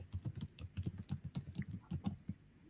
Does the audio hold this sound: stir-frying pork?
no